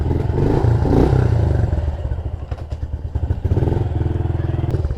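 A 2020 Honda CRF110 dirt bike, a four-speed automatic, idles and runs with a steady low engine drone and some mechanical clatter, rising slightly toward the end.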